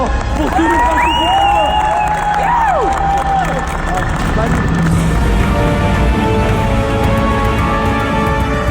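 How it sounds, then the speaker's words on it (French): Crowd noise from an audience gathered for MMA athletes swells into loud, sustained cheering and clapping, with excited voices and shouts mixed through the din for several seconds. "Un tonnerre d'applaudissements pour tous les participants."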